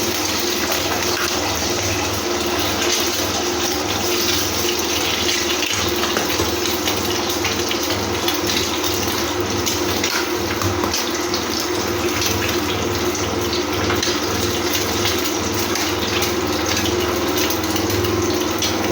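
Hot oil sizzles in a pan while cooking an egg and vegetable filling for momos, a strong, steady crackling hiss that stays close and unbroken for the whole stretch, with no talking.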